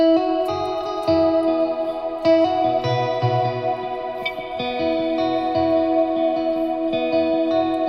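A guitar riff with a shimmering chorus effect rings out in sustained, layered notes, steady and fairly loud, with no voices.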